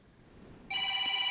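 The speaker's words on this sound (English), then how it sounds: "We got a phone call." Telephone ringing partway through, a clear electronic ring that begins abruptly after a quieter stretch and holds steady at moderate loudness to the end.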